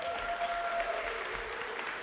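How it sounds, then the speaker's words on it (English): Audience applause for the Fairhaven Rotary Club at a senior talent show, a steady wash of clapping held at a fairly quiet level throughout, with no voices on top. "let's give a round of applause for the Fairhaven Rotary Club"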